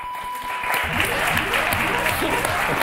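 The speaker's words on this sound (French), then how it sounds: "Applaudissements." Studio audience applauding on the French game show Motus, a dense burst of clapping that swells after a brief tone and holds steady, loud and close, with a voice talking faintly beneath it.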